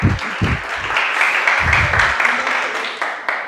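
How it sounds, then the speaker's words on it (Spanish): Audience applause fills the room as a steady, dense wash of clapping that holds for several seconds, with a few low thumps near the start. "Tiene toda la razón, un aplauso."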